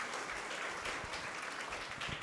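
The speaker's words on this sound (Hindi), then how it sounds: "ताली बजाओ।" A group of children claps in a steady, continuous round of applause at a Jain religious class, sounding close and dense without a break.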